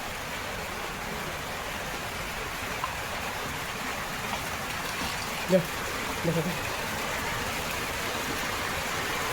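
Rain falls outside during a pet dog's outdoor meal, a steady soft wash of noise with a few faint knocks and traces of low, indistinct voices.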